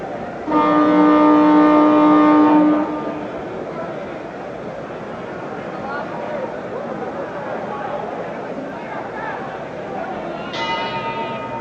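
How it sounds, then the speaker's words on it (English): Boxing ring bell signals the start of round eight in a 1970 NABF heavyweight bout, one loud ringing clang of about two seconds, then crowd noise and commentator talk, with a brief second ring near the end. "The bell for round 8."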